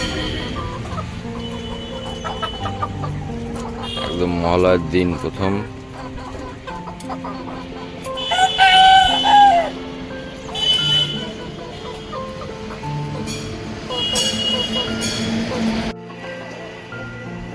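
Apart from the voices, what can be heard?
desi chickens clucking and roosters crowing at a market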